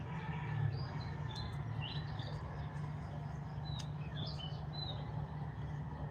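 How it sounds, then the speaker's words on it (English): Birds call and chirp outdoors in short scattered bursts over a steady low rumble, fairly faint and distant with no one talking. "I hear roosters crowing in the background. I hear a bird cooing. I hear some other birds."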